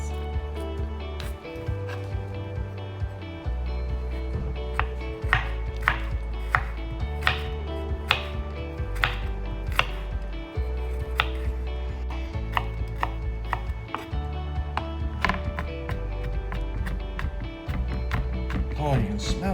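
Knife chopping fresh garlic on a board for a prawn and steak salad, a steady run of sharp, close taps in quick bursts over a low background hum, with a voice talking at times.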